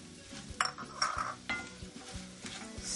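Brown sugar being stirred into blackened, burning walnuts in a pan, with scraping stirs and clinks over a soft sizzle, close and fairly quiet.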